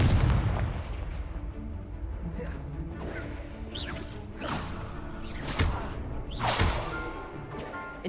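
Spell blasts and explosions in a wizard-themed video game crack out repeatedly, with sweeping whooshes and bursts landing about once a second over a dense, rumbling game soundscape.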